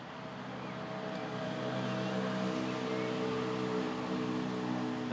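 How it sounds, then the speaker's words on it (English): Steady, continuous roar of road traffic near a rapeseed field in the UK, a broad constant wash of passing vehicles with no voices. "And again, apologies for the noisy traffic."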